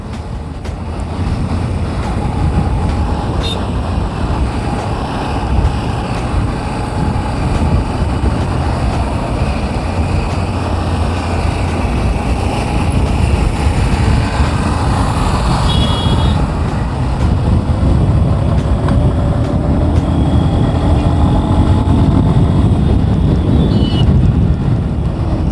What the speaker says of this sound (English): The engine sounds throaty, and the exhaust note is really smooth.